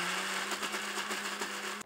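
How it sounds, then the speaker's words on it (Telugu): Mixer grinder whirring steadily as it grinds black-eyed pea batter without added water, a continuous loud motor drone with a slight pulsing texture that cuts off abruptly at the end. "ఇప్పుడు మిక్సీ పెట్టేద్దాం అంతా"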